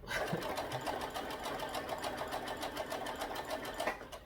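A Brother SE1900 embroidery machine stitches a Christmas design directly onto a onesie, giving a steady, rapid mechanical rattle that runs on its own throughout.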